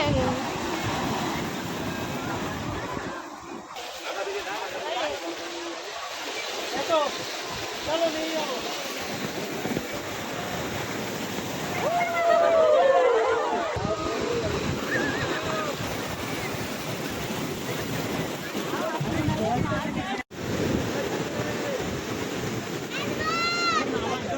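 Sea waves wash and roll continuously onto the beach at Digha, with gusts of wind buffeting the microphone and people talking over the surf.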